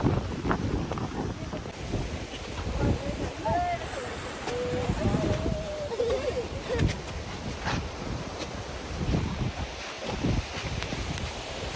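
Strong gusty wind buffets the microphone on a hilltop viewpoint in Eravikulam National Park, Kerala, roaring continuously in loud surges while people talk faintly in the background.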